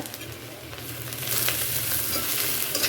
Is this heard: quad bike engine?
no